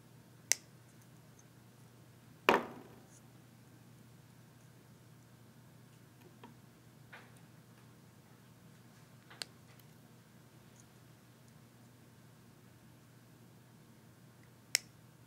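Wire legs of vape coils are trimmed with a few sharp, isolated snips spaced seconds apart, close and crisp against a quiet room hum.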